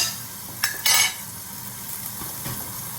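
Minced ginger and garlic paste sizzling in hot oil in a pan, a soft steady fry with a few sharp scrapes and clinks of a utensil against the pan.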